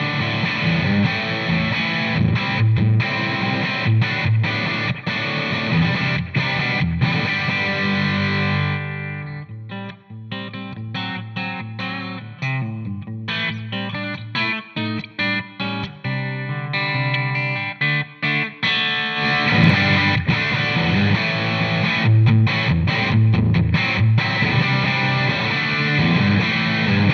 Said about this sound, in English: this is the Plexi, the world famous Plexi amplifier